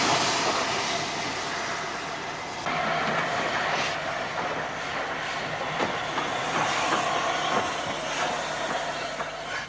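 A standard tank steam locomotive runs along a Scottish line in April 1965, its continuous rolling rumble and rhythmic wheel clatter steady and moderately distant throughout.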